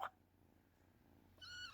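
A small kitten gives a short, faint meow near the end, after a soft quiet pause, heard close and alone.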